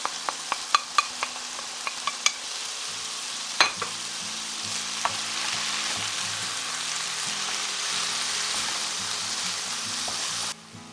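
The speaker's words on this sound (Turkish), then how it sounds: "Biberler de güzelce kavrulduktan sonra rendelediğim 2 tane domatesin içine ekliyorum." Peppers sizzle steadily in a pan as grated tomatoes are added, a dense broadband fry with sharp spoon clinks and scrapes early on, close and loud, no talking.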